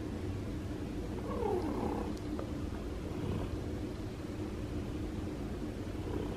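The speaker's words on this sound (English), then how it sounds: "You hear the purring?" A feral cat purrs loudly and steadily at close range, a continuous low rumble with a faint higher sound drifting briefly over it.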